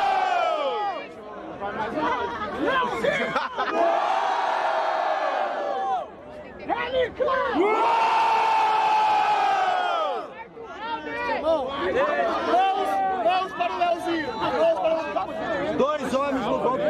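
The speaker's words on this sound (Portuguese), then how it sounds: "Barulho pra cima do Leozinho" A loud crowd shouts and cheers continuously, many voices overlapping, with surges of rising yells that briefly swell above the steady din.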